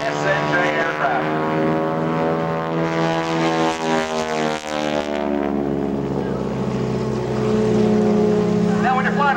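SNJ propeller aircraft flying a double loop at an airshow, a loud droning engine roar whose pitch rises and falls as it passes overhead, heard over announcer talk and wind.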